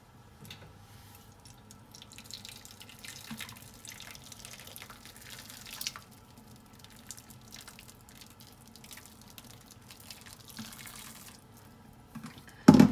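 Hot water is poured while cooking cauliflower cheese: quiet, steady trickling and dripping, faint and continuous, with a sudden louder clatter right at the end.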